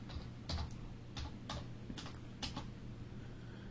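Quiet, close bursts of typing on a computer keyboard, short clusters of key clicks coming roughly every half second against a low room hum, with no voices.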